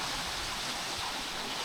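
Fairlawn waterfall in Upcot, Sri Lanka, pours as a dense, steady hiss of falling water, close and loud with no voices over it.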